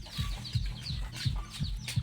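Chickens cluck near a chicken coop in a rural province, a series of short, repeated clucks and low calls at close range, fairly quiet, with no talk.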